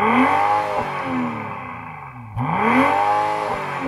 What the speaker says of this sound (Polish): nie ma soft limitera, więc możecie dobić do pełnych obrotów, nie ruszając się z miejsca